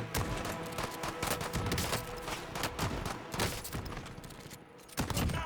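Shotgun fire in Call of Duty: Modern Warfare Warzone cracks out in a rapid, dense string of loud blasts, mixed with other battlefield gunfire throughout.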